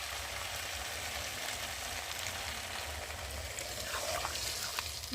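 Water is added to a pan of pumpkin, potato, beans and amaranth stems cooking for a Bengali chorchori. A steady, close sizzle and hiss runs throughout, swelling slightly near the end, with no voices.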